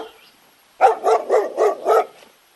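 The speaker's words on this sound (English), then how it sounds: "D for dog." A dog barks five times in a quick, evenly spaced run, loud and close, with no voices around it.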